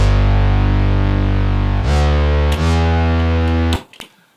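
A loud, thick synth bassline in EDM style, heard dry without effects, sustains steady low notes that shift pitch twice before stopping abruptly, followed by a short tail.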